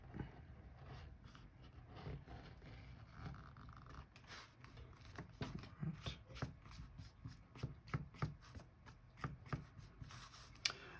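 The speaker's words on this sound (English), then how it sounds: "I'm actually just going to carve that black Sharpie marker line out, at least mostly out." Repeated scraping cuts of a large V gouge carving a block along a marked line, a close series of short crisp strokes that grow louder and sharper in the second half, with no talking.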